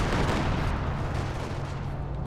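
ISU-152 artillery fire in the video game Company of Heroes 2, a dense, continuous low rumble of booming shots and battlefield noise that stays loud and even without talk.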